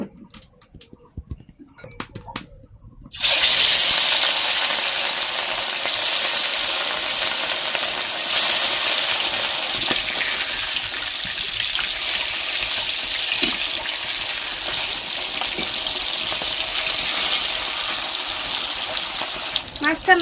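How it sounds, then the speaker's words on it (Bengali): Pieces of rohu fish rubbed with salt and turmeric go into hot oil, bursting into a loud, steady sizzle after a few quiet seconds of small clinks, then frying continuously. "এই যে মাছে কিন্তু লবণ হলুদ মাখিয়ে নিয়েছি, এবার কিন্তু তেলে ভেজে নেবো আস্তে আস্তে।"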